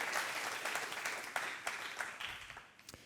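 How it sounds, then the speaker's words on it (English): An audience at a conference panel applauds the organizers, giving a steady wash of many hands clapping for about three seconds before it thins into a few scattered claps. "So let's give them a round of applause."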